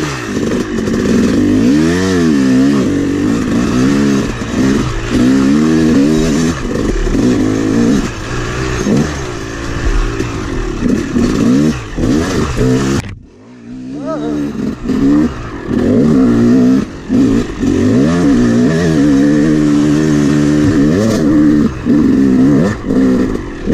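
A rebuilt Yamaha YZ250 two-stroke dirt bike being ridden, its engine loud and close, revving and rising and falling continuously, with a brief sharp drop in sound partway through before it picks up again.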